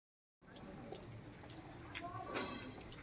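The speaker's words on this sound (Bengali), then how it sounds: "এখানে জলটা পড়েই যাচ্ছে সাতগ্রামে।" Water runs steadily out of an outlet in a village in Satgram, making a continuous rushing and splashing noise close by. It starts abruptly after a brief silence and rises slightly toward the end.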